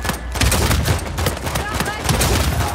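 Online multiplayer gunfire in Uncharted 4: dense, rapid bursts of shots and impacts crackle almost continuously, loud and close, while a player talks over the fighting.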